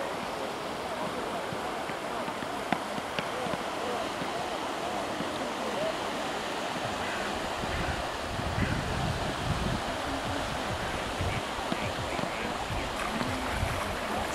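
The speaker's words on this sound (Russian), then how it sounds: "Свежий ветер." Steady wind rushing by the sea on the Riga coast, a constant broad whoosh with the faint wash of surf beneath, no voices.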